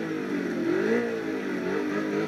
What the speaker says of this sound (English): Listen to the engine. Man, what an amazing engine sound.